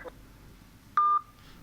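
A call-in line drops on a radio broadcast: a faint click, then a single loud, steady electronic telephone tone of about a quarter second, followed by a soft hiss and near silence.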